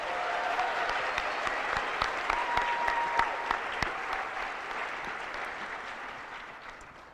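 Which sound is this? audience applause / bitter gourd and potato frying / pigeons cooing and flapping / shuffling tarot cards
audience applause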